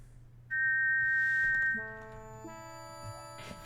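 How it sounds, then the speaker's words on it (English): A shiny silver whistle in King's Quest IV gives one loud, steady, high tweet lasting about a second, followed by a chiming run of tones with no talk. "You put the shiny silver whistle to your lips and forcefully blow into it, producing a loud tweet"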